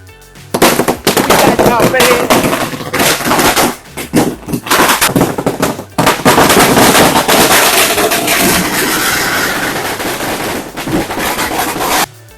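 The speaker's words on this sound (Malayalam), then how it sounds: "ഗുണ്ട് പൊട്ടുവാ" A long, rapid string of firecrackers crackles loudly and continuously, with a brief pause before the bursts resume and rattle on densely.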